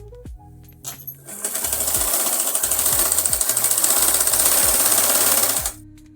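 A sewing machine runs in one continuous burst for about four seconds as it stitches a fabric shoulder seam, a loud fast mechanical rattle close by, with brief handling clicks before and after.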